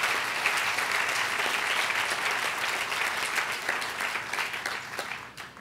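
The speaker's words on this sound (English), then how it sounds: "I think we need to give everybody a round of applause for what they have done." A large crowd applauds steadily and loudly at the grand opening of Francis House of Peace, the clapping holding for several seconds before tapering off at the end.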